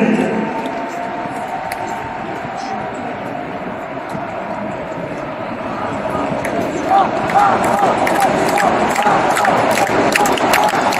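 Crowd applause at an Emmanuel Macron campaign rally, a dense sustained roar of clapping and cheering that swells louder toward the end.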